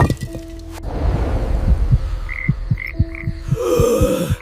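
Two big frogs in a cartoon horror story croak in a series of short, punchy pulses, loud and close, mixed with light rustling and a brief squeak.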